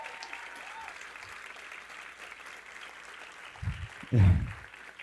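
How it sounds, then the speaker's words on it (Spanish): A church congregation applauds, a soft, steady wash of clapping throughout, with a couple of louder low bumps near the end, likely handling or microphone noise. "Dele fuertes aplausos al Rey de Reyes"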